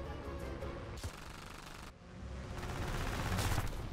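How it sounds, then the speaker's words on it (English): Aircraft machine guns and cannons fire in War Thunder, a dense rapid rattle of bursts that drops out briefly and then resumes more strongly, with no talk over it. "Oh, this cannon does no damage. These machine guns do no damage."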